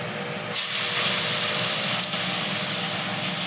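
Cleaned anchovies (nethallu) dropped into hot oil, bursting into a loud, steady broadband sizzle and hiss that continues without talk.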